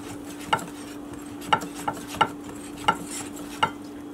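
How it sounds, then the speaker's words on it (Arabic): Batter for crispy fish fingers whisked gently in a bowl, a series of about six light, evenly spaced taps and clinks from the whisk against the side, with a low steady hum underneath. "نسوي المزيج مثل مزيج البانكيك وما نبالغ بالخفق"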